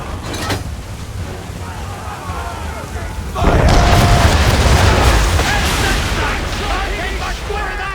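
Ship cannons fire in the Assassin's Creed 3 video game, a loud broadband boom at about three seconds that rolls on as a sustained rumble and din over a rough, noisy background of wind and sea, with voices underneath.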